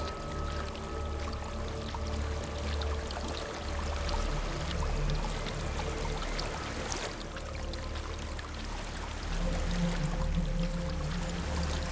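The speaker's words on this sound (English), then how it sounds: "There's a waterfall." Waterfall in the video game Hellblade: Senua's Sacrifice, a steady broadband rush of falling water that holds through the whole stretch with a constant low rumble and hiss, without a break and with no voices over it.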